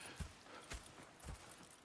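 Horse hooves in Red Dead Redemption 2 clip-clop in a slow, steady rhythm. The thuds come at even intervals, fairly close but quiet, with no talk.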